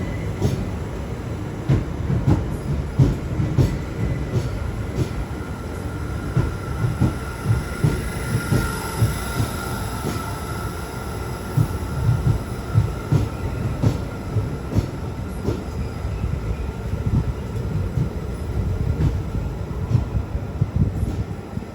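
A Class 377 electric multiple unit at a London terminus, its steady rumbling running sound and rail noise continuing throughout at moderate, even volume with no talk.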